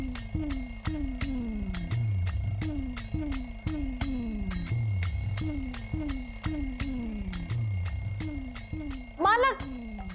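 An alarm clock rings inside a bag with a repeating ringing pattern that continues steadily and loud for the whole stretch, with a brief extra sound near the end.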